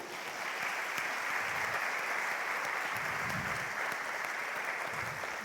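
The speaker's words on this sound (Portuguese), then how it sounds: "Você pode dar um aplauso para Ele?" Steady applause from a large church congregation, a continuous wash of clapping that holds at an even level without pause.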